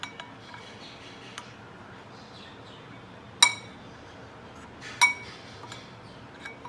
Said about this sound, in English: Now mix it well.